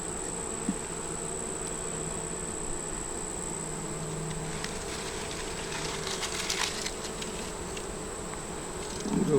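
A steady, close insect buzz of many bees fills the air, with a constant droning hum and a faint high whine above it.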